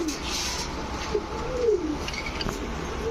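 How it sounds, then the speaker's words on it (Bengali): Khaki pigeons at a pigeon market, a pair of jabra khaki birds, coo in low rolling phrases amid a busy, noisy background of other birds and faint chirps. "এখন ছাড়াছাড়ি লাইনে কিছু খাকি কবুতর দেখাবো।"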